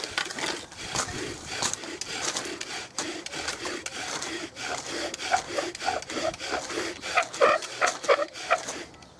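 Rhythmic, gritty wood-on-wood rubbing from an MDF fire bow drill, rapid back-and-forth strokes close up, growing sharper and louder toward the end as dust and smoke form.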